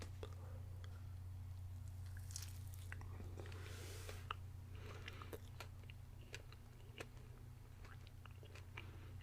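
Someone bites into and chews Cinnamon Toast Crunch Stuffed Puffs Big Bites filled marshmallows, with soft squishy chewing and a few sharper bites close to the mic over a low steady hum, without talking.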